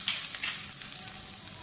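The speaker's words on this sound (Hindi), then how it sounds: "इनको अच्छी तरह से फ्राई करें।" Fresh ginger, garlic and green chillies sizzle steadily in hot oil, a soft continuous crackle with no talking.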